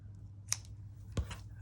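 Scissors snip through paper while a junk journal page is made: two short, crisp cuts about half a second apart, quiet and close, over a low steady background hum.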